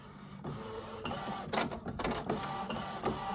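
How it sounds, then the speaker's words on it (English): An Epson ET8550 printer feeds and prints on 280gsm card, giving a steady mechanical whir with repeated sharp clicks and bursts as the print head shuttles, close and fairly loud, with no voices. "So it's now printing."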